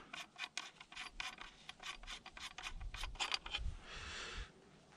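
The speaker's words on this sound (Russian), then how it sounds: "сейчас мы открутим эту гаечку" A small nut being unscrewed on a Kalashnikov TG1 shotgun gives a series of close, dry rasping and rubbing scrapes in quick irregular bursts, ending in a longer hissy scrape.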